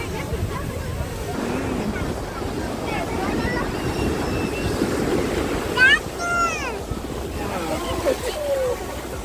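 Waves rolling in at a beach, a constant low roar with wind buffeting the microphone, while people talk and a voice rises over it.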